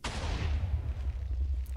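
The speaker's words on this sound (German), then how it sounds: "Wenn man jetzt einen Slab macht, dann hat man meistens einen etwas tieferen Schuss." A Minecraft redstone TNT cannon fires in the video game, one loud booming blast with a sharp onset that rumbles and decays over the following second or so, heard alone.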